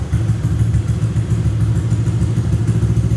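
A Honda Vario 150 scooter engine runs steadily nearby, a loud low rumbling putter with a slight rattle, continuous throughout.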